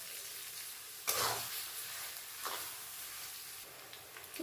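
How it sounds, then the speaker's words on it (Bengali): Onions frying until golden for chicken kosha in a pan give a soft, steady sizzle, broken by a few scraping stirs of a spoon, close and fairly quiet. "পেঁয়াজ গোল্ডেন করে ভেজে নেব।"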